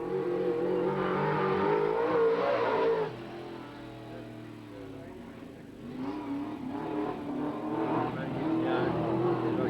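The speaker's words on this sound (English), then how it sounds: "Starting to rev it up a little bit." A race car engine revs at a raceway, heard as a loud, steady roar that dips and then builds again, with a voice talking over it.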